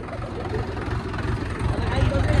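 A Mahindra 575 tractor engine runs nearby with a steady low rumbling chug that grows slightly louder toward the end.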